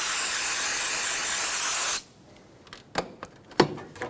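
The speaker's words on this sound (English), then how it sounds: "we're going to take a clean rag and some parts cleaner and spray it on the rag" Parts cleaner sprayed from an aerosol can onto a clean rag during oil filter housing work on a 2012-2020 Chevrolet Sonic: a loud, steady hiss lasting about two seconds, cut off abruptly, followed by faint handling clicks and rustles.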